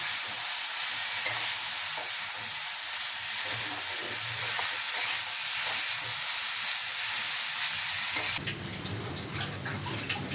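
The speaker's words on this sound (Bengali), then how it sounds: "যতক্ষণ না ব্রাউন কালার আসছে ততক্ষণ সবজিগুলোকে ভাজতে থাকবে।" Vegetables for a mushroom curry fry and sizzle steadily in a pan, a dense continuous hiss close up, with occasional stirring scrapes; near the end the sizzle changes texture and grows busier.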